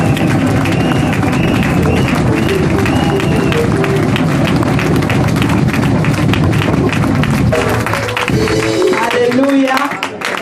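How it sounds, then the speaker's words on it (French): Church congregation at a French-language service raising a loud, sustained acclamation of cheering, clapping and voices, dense and continuous throughout before thinning near the end. "nous allons offrir une offrande d'acclamation au roi"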